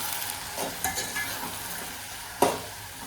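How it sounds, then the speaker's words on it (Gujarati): Fenugreek greens being stirred with turmeric and coriander-cumin powder in a pan, a steady soft sizzle under light scraping and a sharp utensil tap near the end. "થોડીક હળદર થોડુંક ધાણા જીરું મિક્સ કરી નાખશું"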